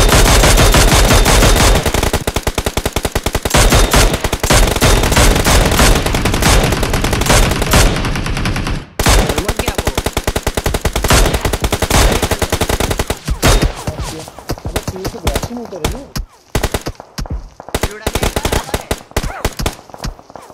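Sustained machine gun fire rattles through a BGMI battle on the Miramar map, loud and nearly continuous, then breaks into choppier bursts toward the end.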